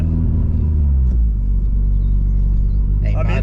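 Modified 552bhp Vauxhall Astra VXR engine running loud and close, a deep steady rumble that holds through most of the clip before rising in a brief rev near the end.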